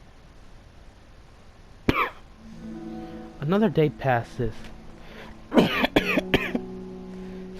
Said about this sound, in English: Sorry, I cough when I get nervous.